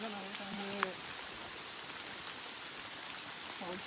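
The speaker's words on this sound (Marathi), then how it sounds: "पाऊस छान पडतो." Steady rain falls through the Andharban forest in Tamhini Ghat during the monsoon, a dense even hiss across the whole stretch with a couple of brief voice fragments.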